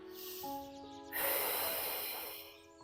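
Deep diaphragmatic breathing while lying down during an abdominal workout: a strong, close breath surges in and then fades, over a soft background tone.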